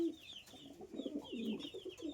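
Soft, low coos from fancy pigeons repeat close by in a gentle rolling rhythm, quiet against faint background noise.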